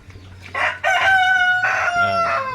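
A rooster crows loudly and close by while chickens cluck around it on a Philippine poultry farm, a strong drawn-out call in two bursts over a steady low farmyard hum.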